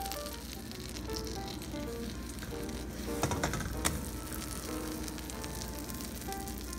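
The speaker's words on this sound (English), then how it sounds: "Sa pinainit po na wok o kawali, ilagay na po natin ng butter." Butter melting in a heated wok for Filipino sisig, giving a steady close sizzle and crackle throughout with a few brief louder pops, no speech over it.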